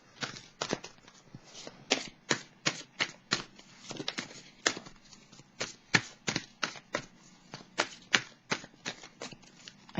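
Tarot cards are shuffled by hand in a rhythmic series of crisp riffling snaps, close and steady over about ten seconds with brief pauses between bursts.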